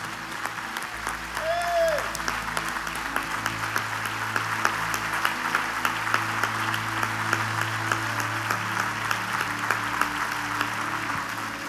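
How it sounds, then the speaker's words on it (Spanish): A church congregation applauds in praise during a worship service, a dense, sustained wave of clapping that runs the whole stretch over steady keyboard or organ tones in the background. "dele el aplauso más fuerte al Rey de Reyes"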